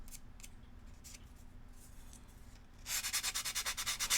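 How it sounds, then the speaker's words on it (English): Faint scattered scraping at first, then a quick run of about a dozen rhythmic rubbing strokes of hand sanding with sanding sticks on a model kit, close and crisp. "My favorite sanding sticks."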